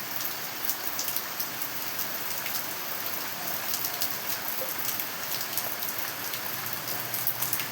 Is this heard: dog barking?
no